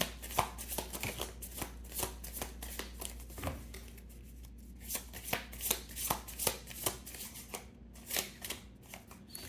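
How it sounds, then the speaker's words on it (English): A deck of tarot cards is shuffled by hand in quick, uneven bursts of riffling and slapping, close and fairly quiet, with no speech. "I'm having the hardest time shuffling for this sign here"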